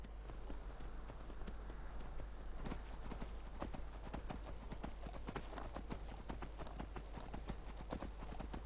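Horse hooves clip-clopping in the video game Skyrim, a steady quick run of sharp hoof strikes at close range, evenly paced throughout with no talk.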